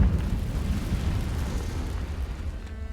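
A Confringo blasting spell in Hogwarts Legacy bursts into a loud, dense fiery explosion that roars with deep low rumble for about three seconds before starting to fade.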